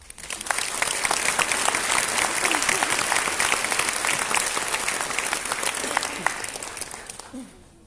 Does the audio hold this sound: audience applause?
yes